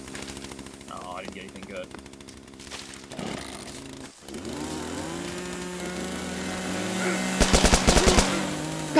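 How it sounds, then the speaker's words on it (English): Rapid bursts of SMG machine-gun fire in the video game The Culling, a dense rattling volley near the end over game noise, with a player's voice talking earlier. "they got an SMG"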